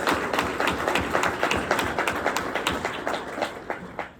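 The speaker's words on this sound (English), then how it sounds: "They deserve a round of applause." An audience applauding the planning committee at an event, a moderate, fairly sparse patter of individual claps running steadily throughout, with no voices over it.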